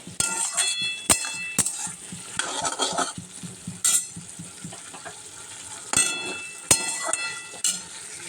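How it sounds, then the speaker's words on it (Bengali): Potatoes and ghugni peas fry with spices in a pan, sizzling softly while a spatula stirs and scrapes, with sharp metallic clinks and knocks in an uneven rhythm close by. "এবার ভালো করে এটাকে আমি পুরো মশলার সাথে কষিয়ে নেবো একটু"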